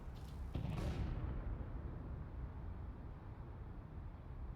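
Grenades and gunfire in a Counter-Strike match on the Overpass map: a loud burst near the start fades into a steady low rumble and muffled crackle over the rest.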